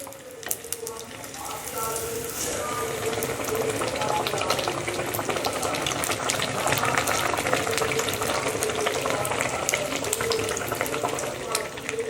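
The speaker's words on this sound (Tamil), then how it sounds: "நீங்கள் அடி எண்ணெயில் போட்டோடனே நீங்கள் எதுவும் பண்ண வேணாம் அதுவே நல்லா உப்பிங் புஷ்ஷுன்னு மேலே வரும்" Rice vadas deep-frying in hot oil, puffing up as they cook, give a steady, close bubbling sizzle with faint crackles that carries evenly from start to finish.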